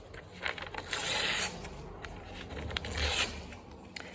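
The edges of a sheet of white paper are trimmed with scissors: close, soft scraping cuts in a few drawn-out strokes, with no talking.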